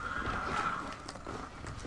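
A galloping horse neighs in the Red Dead Redemption: Undead Nightmare video game, a whinny over steady hoofbeats, loud and dense throughout with no speech.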